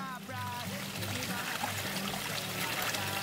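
Low, weakened stream on the Deer Springs Trail in a dry, snowless year, a steady close trickle and gurgle of water running without pause.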